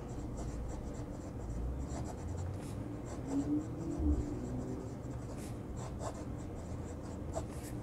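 A Chinese pocket fountain pen nib scratches across paper in a quiet room, a faint, continuous rustle of short strokes with a few slightly louder marks.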